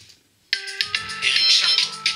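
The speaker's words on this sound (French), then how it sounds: "Ah, désolé pour le téléphone." A telephone ringtone bursts in suddenly and loudly after a brief quiet moment, a bright repeating electronic melody playing close by.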